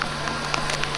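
Monsoon rain keeps falling on a plateau trek, a dense hiss of drops with a few sharper spatters, steady and close for a brief moment with no voices.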